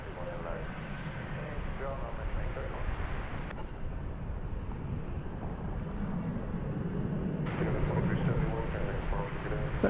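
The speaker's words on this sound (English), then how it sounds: "That is flight, well, the tail end of flight 1304, going to Austin. Another Airbus A319." An Airbus A319 airliner at DFW Airport, heard as a steady, fairly distant jet roar that swells slightly toward the end, a continuous broadband rumble with no nearby talk.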